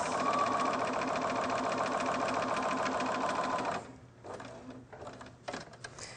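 A sewing machine stitches quilt pieces in a fast, steady mechanical whir for about four seconds, then stops, leaving quieter scattered clicks and handling noises.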